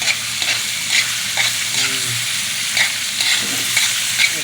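Beef or pork liver stir-frying in margarine in a pan, a steady close sizzle with periodic scraping stirs and faint utensil clicks, no talking.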